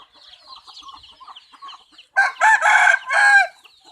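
Chickens cluck softly in short bursts, then a rooster crows loudly close by in a few strong segments.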